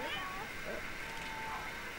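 Cat meowing in The Sims 3, a few short mewing calls near the start and middle over a steady game background, with speech-like sound present.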